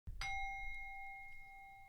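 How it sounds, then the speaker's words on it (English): A meditation bell is struck once and rings with a clear, pure metallic tone that decays slowly over nearly two seconds, close and quiet, alone with no voices. "the sound of a bell like this, it's far less intrusive"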